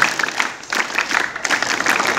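Scout-style rhythmic group clapping from high school students at a vocational school scout gathering, quick patterned claps in bursts with a brief pause midway.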